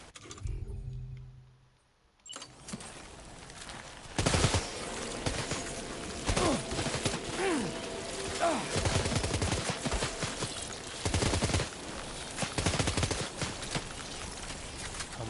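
Gunfire aimed at spiders in Death Stranding 2, heard as several loud bursts of shots separated by pauses. Rustling movement and ambient game sound fill the gaps, and there is a quiet stretch at the start.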